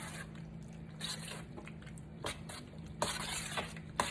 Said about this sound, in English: Now I'm going to grab a spoon and I'm going to stir this up.